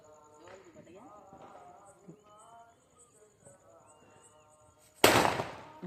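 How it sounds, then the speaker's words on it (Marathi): Firecrackers set off at a family's first Diwali in a new home: after several seconds of chatter, a single loud, sharp burst crackles close by and decays quickly. "तर आता मी फोडतो फटाके थोडेफार"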